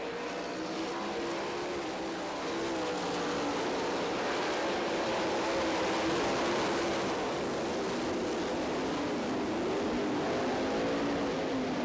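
Sprint cars racing in qualifying laps at the Knoxville Nationals dirt track, a continuous loud, droning engine roar that holds steady throughout with no talk over it.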